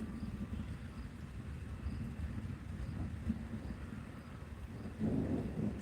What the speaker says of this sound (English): I really like the storm that's coming through because it's like constant thunder.